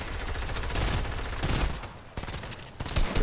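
Rapid, loud shotgun blasts fire in a video game, dense overlapping gunfire filling the whole stretch with barely a pause.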